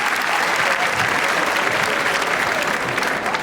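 A comedy club audience claps along in rhythm, a dense, steady crowd clapping at fairly loud level, with a faint voice underneath.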